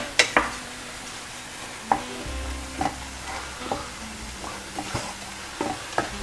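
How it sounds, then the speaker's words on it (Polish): Grated beets fry gently with apples in a pan while a utensil scrapes and taps against it every second or so, close and fairly quiet. "i dalej smażymy je z jabłkami dosłownie minutę"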